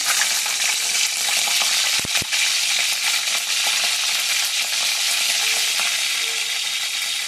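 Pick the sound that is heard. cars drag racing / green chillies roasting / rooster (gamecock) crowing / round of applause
green chillies roasting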